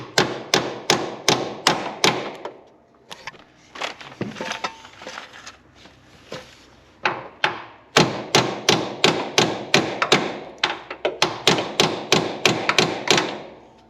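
Metal hammer strikes drive hinge pins into the door of a 1973 Chevy Nova, loud sharp blows in quick even bursts of about five or six, then a scattered stretch of lighter taps and thuds, then two more rapid volleys.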